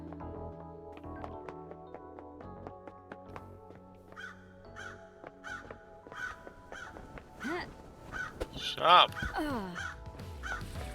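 Crows caw repeatedly in a video game, a series of harsh calls over layered game music, with a louder burst near the end and a voice briefly speaking.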